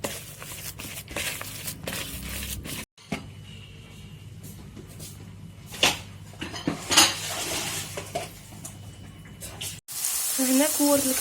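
Utensils clank and scrape against a pan while kofta patties fry in a little oil. A louder hiss of sizzling swells up near the end.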